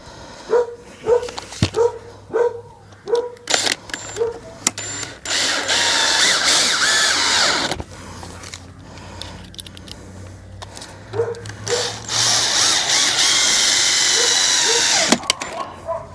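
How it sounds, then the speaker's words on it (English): A power drill bores out a lock hole in a wooden shed door, whirring in a sustained burst after several short taps and pauses, close and loud, with scattered knocks and handling noise around it. "Drill out where the hole is."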